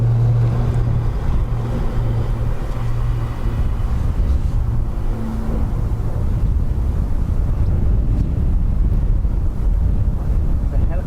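Strong, gusty wind buffets the microphone at Dublin Airport with steady low roaring rumble, rising and falling gusts filling the whole stretch, no speech over it.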